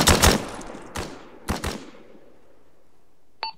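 Bursts of rifle fire in ArmA 3, loud and close: a rapid double-shot group, then single shots and another pair, each trailing off in a long echoing tail, followed by one short faint crack near the end.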